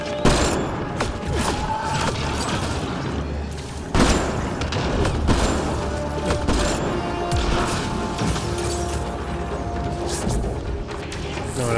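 Sniper rifle fire in the sci-fi shooter Mass Effect Andromeda, sharp loud shots landing near the start and again around four seconds over a dense, steady bed of combat noise, mechanical clatter and music.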